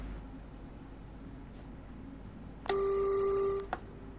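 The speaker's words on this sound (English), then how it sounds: "Oh, that horn sounds horrid." A single steady train horn blast, about a second long, sounding over a constant low rumble of a moving train, ending with a brief click, in the video game Train Sim World 2.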